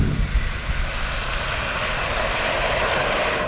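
E-flite F-16 70mm electric ducted-fan RC jet taking off, a loud sustained whine with a high tone slowly climbing in pitch over a rushing roar, close and steady.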